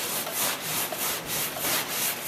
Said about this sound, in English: reaching for our stainless steel hot scrubbers